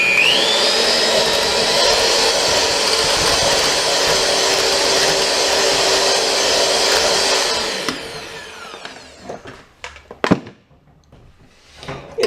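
A machine used while making super dark chocolate ice cream runs with a loud steady whirring drone for about eight seconds, then cuts off, leaving a few scattered knocks and clatters.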